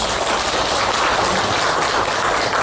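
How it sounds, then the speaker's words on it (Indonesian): An audience applauds during a PKK village women's group study visit in Jogjakarta, a dense, steady wash of clapping that carries evenly from start to finish without a break. "kita kasih aplaus"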